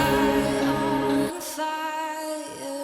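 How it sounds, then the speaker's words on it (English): Sung vocal line passed through a delay with reverb, the voice ending and leaving a washy, smeared echo tail that rings on and fades, moderately loud and alone. "you can now hear that this delay actually has a reverb on it"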